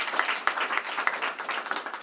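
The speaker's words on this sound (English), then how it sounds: "So please give them all a round of applause." A small crowd applauds at a main library reopening celebration, with a brief burst of scattered, uneven clapping that sounds moderately close.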